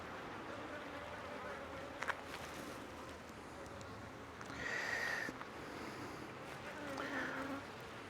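Honeybees buzz around an open hive in a low, continuous drone with a few louder swells and brief clicks, close and without talk.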